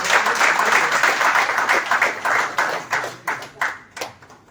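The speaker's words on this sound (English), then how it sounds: "I think it deserves a big round of applause" A crowd at the curtain raiser for Cashew Fest Goa 2023 gives a round of applause for the festival logo, dense clapping that thins into scattered, separate claps toward the end.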